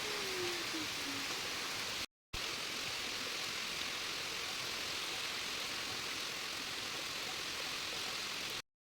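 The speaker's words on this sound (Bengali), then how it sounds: "বৃষ্টিটা খুব সুন্দর লাগছিল অনেকটা অনেকক্ষণ ধরেই বৃষ্টিটা হয়েছে" Rain pours steadily as an even, continuous hiss with no separate drops standing out, broken by one brief moment of silence.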